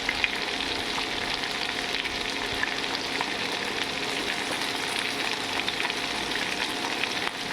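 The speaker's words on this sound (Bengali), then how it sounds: "এখানে বড়িগুলো দিয়ে দেবো, তাহলে এক সাইডে আমার বড়িগুলোও ভাজা হয়ে যাবে একই সাথে" Lentil bori frying beside mixed winter vegetables in a pan give a steady, close hiss of oil sizzling without pause, moderately loud and unbroken by speech.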